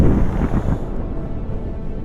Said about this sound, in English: Coordinates are sent to the nearest artillery battery, and fire is initiated.